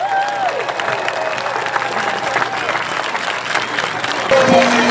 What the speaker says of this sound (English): Another big round of applause, ladies and gentlemen, for the Macklin Academy dancers.